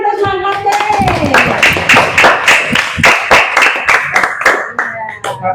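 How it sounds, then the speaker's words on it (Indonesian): Children at an Islamic boarding-school orientation clap for Mas Hatim: quick, rhythmic group clapping in a fairly close room, with sung or chanted voices running over the claps. "Tepuk tangan untuk Mas Hatim."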